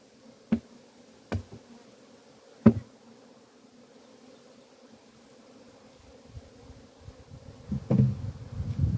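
Honeybees buzz around the hives at an apiary, a faint low drone broken by a few sharp taps, with the buzzing swelling louder and closer toward the end.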